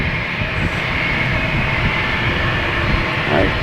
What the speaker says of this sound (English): clear for takeoff. Spirit Airlines heading to Detroit.